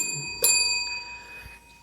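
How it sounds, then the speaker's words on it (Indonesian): A single bell or chime strikes once near the start and rings on with a steady, sustained metallic tone that slowly fades, heard up close during a quiet indoor talk with no speech over it. "Bunyi bel atau apa ya?"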